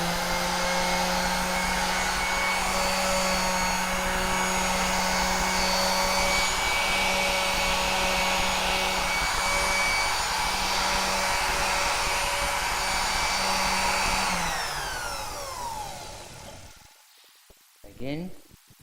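An electric power sander runs on timber with 240-grit paper, making a loud, steady whirring drone for about fifteen seconds before it winds down. A short rustle and clatter follow as it stops.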